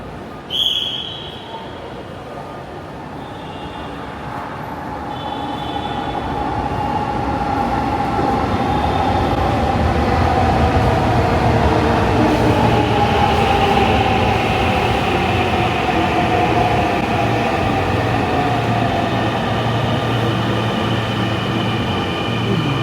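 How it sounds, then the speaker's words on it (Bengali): A Dhaka metro rail train pulls into the station platform, its rumble rising steadily from a faint approach into a loud, continuous roar nearby, with a brief high chime at the start. "সামনে একটা মেট্রো রেল আসছে, দেখা যাচ্ছে।"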